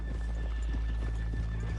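Horses in Red Dead Redemption 2 clop steadily on the ground at a walk while one whinnies, the hoofbeats close and fairly quiet over a low ambient hum.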